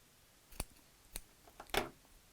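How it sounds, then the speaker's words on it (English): Scissors snipping the end of a ribbon wrapped on a hessian flower stalk, a few quiet, sharp clicks and snips ending with one slightly longer cut, in a near-silent room. "then we'll trim off the end bit"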